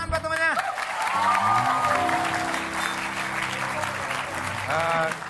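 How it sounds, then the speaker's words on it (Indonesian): A studio audience at a television talk show claps and cheers in sustained applause, with a host's voice and music heard over the clapping. "tepuk tangan buat temannya"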